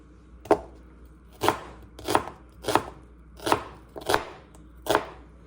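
A knife chops through an onion on a cutting board in seven crisp, evenly spaced strokes, each a close, sharp thud with a short ring, alone with no talking.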